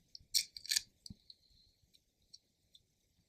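Scissors snip through athletic tape during thumb taping: two quick, crisp close cuts early on, then a few faint ticks and handling noises.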